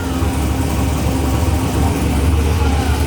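Trans Am WS6 V8 idles close by in a garage, a loud, steady low-pitched rumble with a lumpy, even pulse throughout.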